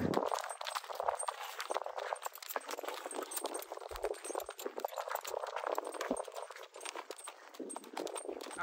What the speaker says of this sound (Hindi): पहली बार ट्रेनिंग आपे छे पहली घोड़ी ने